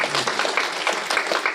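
A comic convention crowd at a Danny Trejo panel claps briefly, a short burst of dense applause filling the room.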